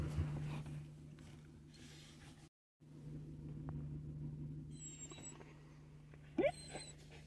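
Hunting dogs in an open field whimper softly over a low steady rumble, with a few high thin whines and a brief sharp yelp near the end, faint and distant with no talking.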